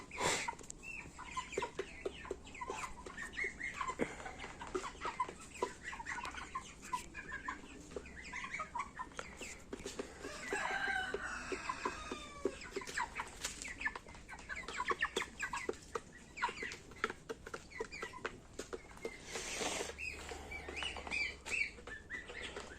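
Gurk chickens cluck and chatter continuously at moderate distance, with scattered bird chirps over a steady outdoor background.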